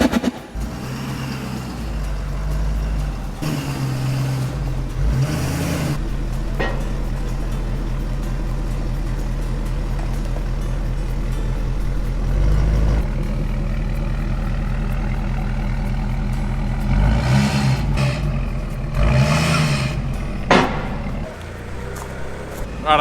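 A Ford F250 truck idles and is driven into a workshop bay onto a large 12.5-ton hoist, a low rumbling engine drone with clunks and louder bursts, fairly close and continuous.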